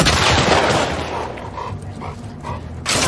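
Gunfire and barking dogs in The Last of Us Part II, a loud burst of combat noise at the start easing into scattered shots and yips, with another loud burst at the end.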